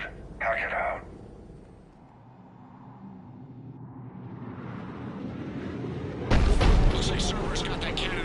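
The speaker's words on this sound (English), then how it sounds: "Looks like Cerberus got that cannon operational" Deep, rumbling blasts from a cannon in the video game Mass Effect Legendary Edition, a low roar swelling over several seconds before a sharp, loud booming burst near the end, with game sound and chatter in the background.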